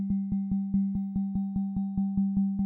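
Ableton Live Collision synth with a virtual mallet striking a resonating object, giving a regular series of about thirteen identical pitched tonal hits that ring briefly at a steady pace.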